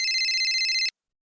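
A telephone rings in a steady warbling burst that repeats evenly for just under a second, close and clear, then cuts off abruptly into silence.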